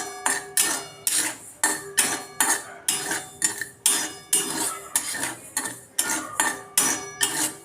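Barnyard millet (varai) dry-roasting in a pan, with a close, rhythmic scrape and rattle of grains and utensil repeating roughly twice a second for several seconds, no voices.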